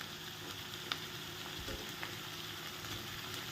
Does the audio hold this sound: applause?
no